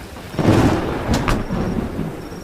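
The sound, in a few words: heavy rain and thunder in a horror story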